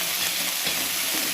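Chilies and cumin fry in a pan alongside fish and browning onions, giving a loud, dense, unbroken hiss of sizzling oil up close.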